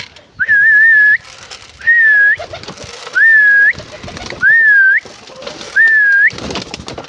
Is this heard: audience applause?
no